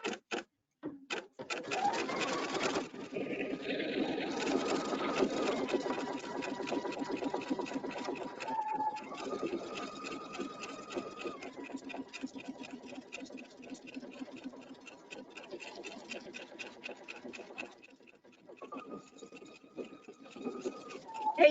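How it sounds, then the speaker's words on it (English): A sewing machine stitches a basting line in a steady run of fast mechanical clicks and hum, pausing briefly near the end and then starting again, heard close with no talking. "Judy, do all the machines go back to where you left off if you do the basting line?"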